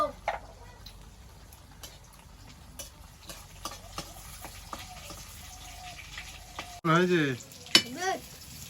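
Whole cumin and dried red chilli sizzling in hot oil, a soft steady crackle with clinks of stirring, then a louder burst of spitting sizzle near the end.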